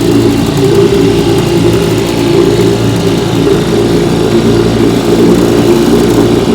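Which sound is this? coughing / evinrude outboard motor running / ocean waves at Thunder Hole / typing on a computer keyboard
evinrude outboard motor running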